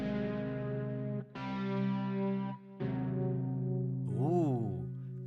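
Sustained guitar-like melody from The Last Spell soundtrack floating over a steady low C drone, three held phrases with brief gaps, ending in a wavering bent note; loud and close, no talk.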